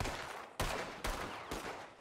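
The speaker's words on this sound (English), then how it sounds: "Why am I getting shot at?" Gunfire in a video game comes as three or four heavy, booming bursts roughly half a second apart, each with a long rolling tail, loud and near with no talk.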